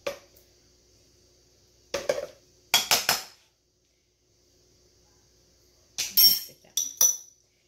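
A utensil clinks and scrapes against a bowl while mayonnaise stuffing for baked shrimp with crabmeat is mixed, in a few short clusters of sharp taps separated by quiet pauses.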